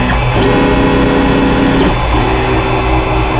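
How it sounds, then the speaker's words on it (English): An Ender 3 Pro 3D printer starts a print job, stepper motors whining in rising and falling tones over a steady fan hum, loud and close with no talk. "And now it is starting to print."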